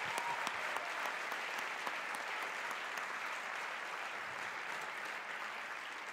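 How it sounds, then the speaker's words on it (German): Sustained crowd applause at an amateur night stage show, greeting a performer as he walks on; dense, steady clapping from a fairly large audience that holds at an even level for the whole stretch, with no voices standing out. "Mit einem tobenden Applaus."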